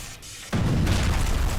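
A sudden deep boom bursts in and keeps rumbling loudly, a heavy IED explosion in a bootleg SpongeBob video game with a long, noisy roar that fills the rest of the clip.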